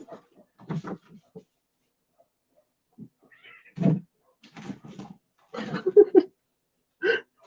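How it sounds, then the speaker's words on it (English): Cats rampage indoors, with scattered bursts of thumps, scuffles and short cat vocalizations spread across the moment, close and fairly loud against a quiet room. "Can you guys hear the cats rampaging?"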